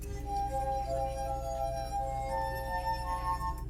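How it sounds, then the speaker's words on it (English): A finger circling the rim of a drinking glass draws out a steady, singing resonant tone that holds for several seconds, with a second, higher ringing pitch joining partway through, clear and alone without talk. "running your finger around the rim of a glass at just the right speed will produce sound"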